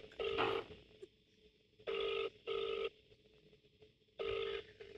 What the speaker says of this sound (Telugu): రింగ్ అవుతుంది రింగ్ అవుతుంది